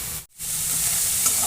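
Chopped large onion dry-sautéing in a kadhai with no oil gives a steady, close sizzle and crackle, broken by one brief dip near the start as it is stirred, then continuing evenly.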